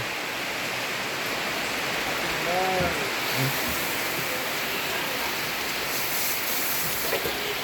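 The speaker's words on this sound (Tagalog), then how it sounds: "Ang lakas ng ulan." Steady heavy rain hisses in a dense, unbroken wash, with a brief faint tonal chirp partway through.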